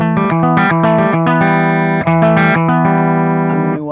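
Electric guitar played through a Bogner Ecstasy Red amp with the pedal off, a rich sustained chordal tone with picked notes, loud and steady throughout with one brief dip.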